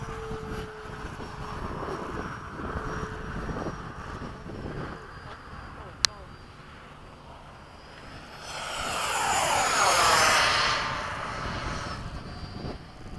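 A steady F-15 jet engine fan whine drones under wind noise, with a sharp click midway, then a louder rushing roar swells and fades near the end.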